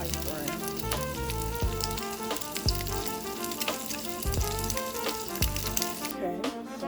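Slices of Spam frying in a pan, a steady close sizzle and crackle with a few sharper pops scattered across the clip.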